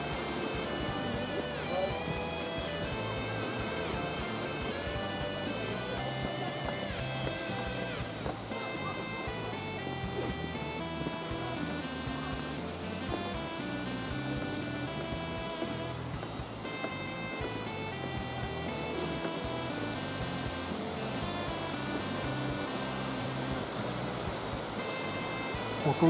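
Roar of Nachi Falls, a large waterfall, a loud steady rushing wash of falling water that holds constant from start to finish with no voices.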